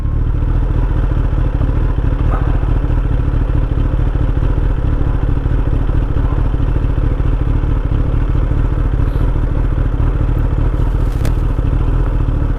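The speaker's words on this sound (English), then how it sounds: "First let's put the motorcycle into low power mode." A Kawasaki ZX-10R motorcycle set to low power mode runs steadily nearby, giving a loud, constant engine drone with light mechanical clatter throughout.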